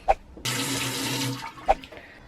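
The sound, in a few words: tap water running while rinsing face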